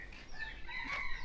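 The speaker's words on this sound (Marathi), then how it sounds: "कोंबडा पण आला बघा." A rooster crows once, faint and somewhat distant, in a quiet rural evening setting in Maharashtra.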